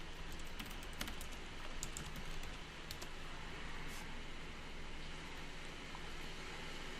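Faint keystrokes on a computer keyboard tap out a short, sparse run of clicks beneath a steady background hiss, with no one speaking.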